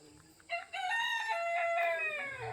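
A rooster crows once at sunrise in a Konkan village, a long, clear, drawn-out call at moderate distance, ringing out over a quiet outdoor background.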